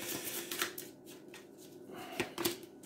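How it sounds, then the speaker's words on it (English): A deck of playing cards is shuffled during a tabletop card game, a quiet, close flurry of riffling clicks and soft slaps in uneven bursts lasting a few seconds. "Oh, I didn't actually shuffle the deck."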